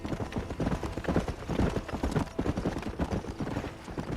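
Horse hooves clip-clop in a steady, quick trot on a trail in Red Dead Redemption, close and rhythmic, continuing alone without voices.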